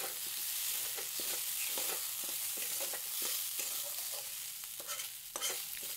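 Gobindobhog rice lightly frying in a kadai, stirred constantly with a spoon so it won't stick: a steady close sizzle broken by repeated scraping strokes in an uneven rhythm, with no voices.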